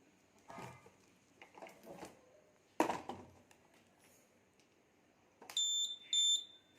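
An Arduino-based smart blind stick's electronic buzzer sounds near the end in two short, loud, steady bursts, following a few scattered clicks and handling noises.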